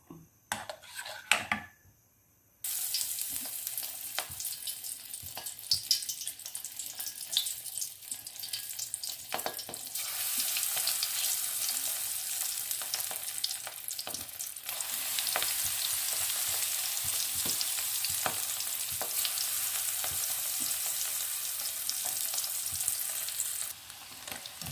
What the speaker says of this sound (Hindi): उसके साथ ही मैं ये आलू के पकोड़े भी बनाऊंगी।